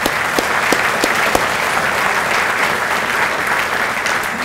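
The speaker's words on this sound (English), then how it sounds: "Please give these employees a round of applause." An audience at a police awards ceremony applauds steadily, a dense, even wash of many hands clapping close and loud, with no break for the full stretch.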